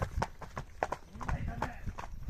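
Hooves of a pair of Belgian draft horses clip-clop at a steady walking pace, fairly close, while someone talks over them.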